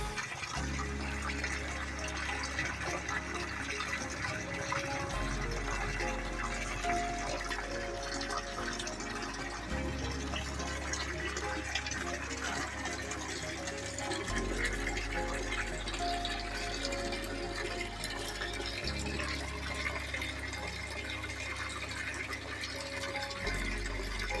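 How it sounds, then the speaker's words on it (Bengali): Water drains steadily out through the outlet of a high-density biofloc fish tank, a continuous close rushing and gurgling flow with a low pump-like hum underneath, no talking. "এই আউটলেট দিয়ে আমার এই জলটা বেরিয়ে যাচ্ছে"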